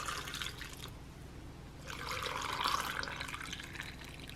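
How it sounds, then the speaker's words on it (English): Brine poured from a container over peeled garlic cloves in a glass jar for fermenting, a soft trickling splash that swells to a steady pour in the second half with no talking. "then I'm going to pour this brine over the peeled garlic cloves."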